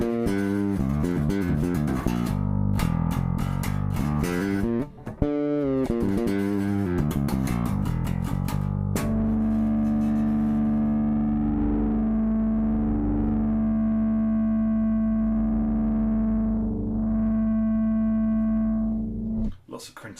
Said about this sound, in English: Lots of crunchy gain there.